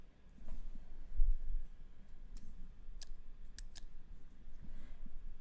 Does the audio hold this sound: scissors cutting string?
yes